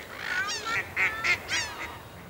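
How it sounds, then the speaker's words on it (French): Greylag geese in a French marsh honking, a series of several loud nasal calls close by, with no talking. "On entend les oies cendrées aussi."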